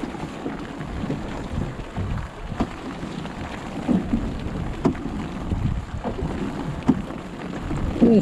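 Steady rain hisses over the constant wash and slap of choppy sea waves in bad weather on a fishing trip, with occasional sharper splashes nearby; no one speaks.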